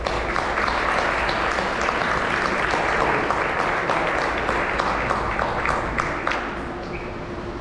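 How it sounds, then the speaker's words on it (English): A banquet audience applauds, honoring the parents at a high school academic banquet; dense, steady clapping from many hands fills the room, easing off slightly toward the end. "you should give your parents a round of applause right now"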